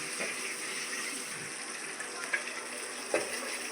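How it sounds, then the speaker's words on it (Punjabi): Cumin seeds fry in hot oil in a pan while mutter paneer is being cooked at home, giving a steady crackling sizzle with a few sharp pops and light stirring clinks, and no voices. "ਹੁਣ ਮਾੜਾ ਜਿਹਾ ਫਰਾਈ ਹੋ ਜਾਂਦਾ"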